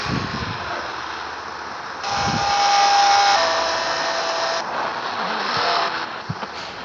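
Lamborghinis racing in the video game Car Driving Ultimate: a steady synthetic engine roar with a swelling rise partway through, continuous and fairly loud, with no voices over it.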